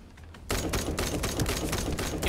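A weapon in The First Descendant opens fire abruptly after a quiet moment, then keeps going in a fast, dense, rattling stream of shots, loud and close with no voices over it.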